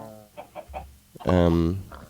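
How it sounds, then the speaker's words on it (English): Chickens cluck in the blocky survival world of the Minecraft modpack SevTech Ages, a few short close clucks followed by a louder drawn-out squawk, with no talk over them. "Here's the chickens, and a chicken with an identity crisis."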